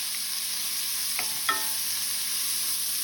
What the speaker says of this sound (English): So you want to saute your peppers and your onions for your southern fried cabbage.